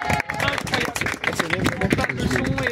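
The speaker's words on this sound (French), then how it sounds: "on peut applaudir encore une fois" An audience at an outdoor Christian gathering in the Tuileries Garden in Paris claps in a dense, close patter, with voices talking over the applause throughout.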